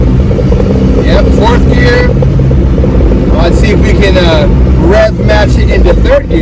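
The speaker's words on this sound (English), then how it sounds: "Let's see if we can rev match it into 3rd gear." Honda Civic HX with VTEC revs loudly up close from the cabin, engine note climbing and dropping as it rev matches into 3rd gear, with shifting sounds and a voice talking over it.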